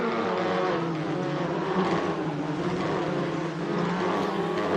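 Several WTCR touring race cars on the final lap at Slovakiaring in Assetto Corsa, engines droning loudly and continuously together at high revs with overlapping buzzing tones.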